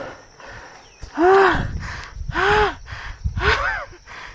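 Heavy, ragged breathing of an exhausted cyclist after a climb on a gravel trail, three loud gasping breaths spaced about a second apart, close and alone with faint outdoor noise between them.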